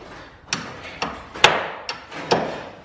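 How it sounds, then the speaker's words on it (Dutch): A hammer knocks on a car in a series of about six sharp, close metallic blows spaced roughly half a second apart, each ringing briefly before fading. "Ja, moet mijn hamer opkloppen, jongen."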